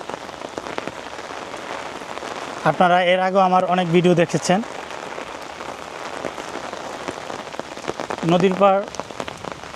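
Steady rain patters densely on nearby surfaces by the Meghna river bank, a constant close hiss beneath someone speaking in two short stretches.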